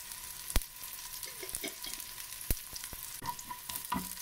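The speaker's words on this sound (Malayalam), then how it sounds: "അര ടേബിൾ സ്പൂൺ നെയ് ചൂടായിട്ടുണ്ട്. ഇനി ചെറിയ ഉള്ളി, ഒരു നാലോ അഞ്ചോ ചെറിയ ഉള്ളി വട്ടത്തിലരിഞ്ഞത്, ഒരു കാൽ ടീസ്പൂൺ നല്ല ജീരം കൂടെ ചേർത്ത്" Thinly sliced shallots and cumin seeds fry in a little hot ghee, a soft continuous crackle broken by a few sharp clicks and spatula taps close by.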